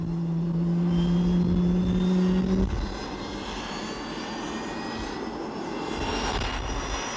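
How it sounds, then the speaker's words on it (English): A loud, steady low engine drone with a held tone cuts off, leaving a rising, thin turbine whine of big General Electric jet engines starting on a Navy aircraft, climbing slowly over a rumbling background. "Listen now to the startup whine of these big General Electric engines."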